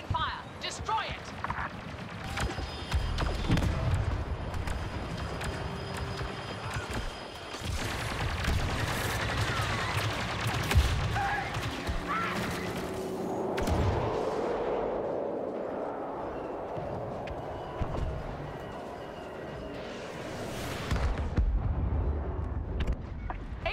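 Sustained heavy weapons fire and booming blasts aimed at an AT-AT walker in a Star Wars battle video game, dense and loud throughout with rumbling explosions, under battle voice chatter.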